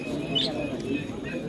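A pigeon coos and chirps faintly at a busy outdoor livestock market, a few soft calls buried in crowd murmur and chatter close by.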